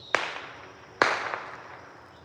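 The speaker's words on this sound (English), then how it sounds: "They're just setting off fireworks for whatever reason, and they've been doing it all day." Two sharp fireworks bangs go off about a second apart outdoors in the woods, each a distant crack followed by a long echoing decay across open space, with no voices.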